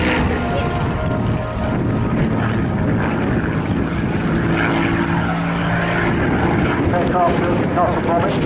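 A Supermarine Spitfire HF Mk9 propeller fighter flying at an airshow, a loud, continuous engine drone that fills the whole stretch, with crowd or commentary voices faintly underneath.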